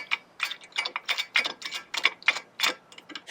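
Lug nuts are spun down wheel studs with a 3/4 socket while fitting wheel spacers on a Jeep XJ: a quick run of close metallic ratcheting clicks in a steady rhythm, no talking.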